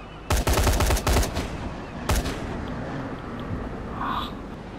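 Gunfire in the Dying Light The Following video game: a loud rapid burst of shots followed by a single later shot, close and sharp against a noisy background.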